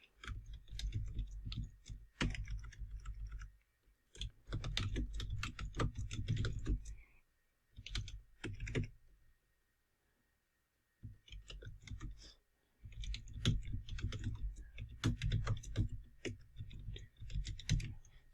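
Someone types a file name on a computer keyboard, with close, rapid bursts of clicking keystrokes broken by short pauses and one longer silent gap midway.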